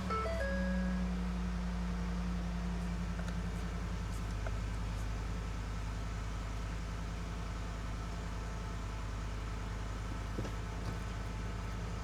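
A 2011 Ford F150 with a 5.0 V8 idles high at about 1,000 RPM just after a cold start, giving a steady, close, low rumble that holds evenly throughout.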